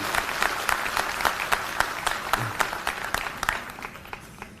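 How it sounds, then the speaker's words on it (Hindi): Audience at a political rally in Maharashtra gives a burst of hearty applause, dense sharp clapping continuing steadily, close and loud, with no speech over it. "एक बार जोरदार तालियां हमारे सभी माता और बहनों के लिए।"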